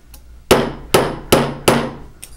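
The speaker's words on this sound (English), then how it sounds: "I might go in and try to hammer just a little bit to fill in these gaps" Four sharp hammer blows ring out on metal being textured to fill gaps, evenly spaced about every half second, each a loud bright clang that decays quickly, with no voices.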